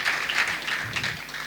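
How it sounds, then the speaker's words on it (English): An audience at a panel discussion claps to welcome a panelist, producing a short burst of dense, fairly distant applause that holds steady throughout. "Let's give a hand of applause as he comes up."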